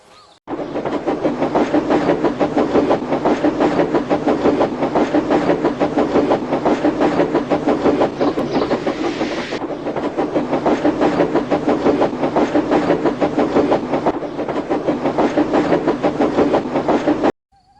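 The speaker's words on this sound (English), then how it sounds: "you can still hear the faraway call of an engine's whistle and the clickety-clack of train wheels" Train wheels clatter in a steady, rhythmic clickety-clack, a continuous rolling rattle with a faint hiss, running evenly from start to finish.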